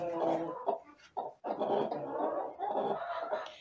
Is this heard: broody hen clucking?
yes